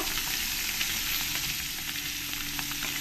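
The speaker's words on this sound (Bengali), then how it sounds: "মাছগুলোকে আমি একটু কড়া কড়া করেই ভেজে নেব।" Steady, close sizzling of puti and mourala fish frying crisp in hot oil, dense crackle with faint pops and no talking.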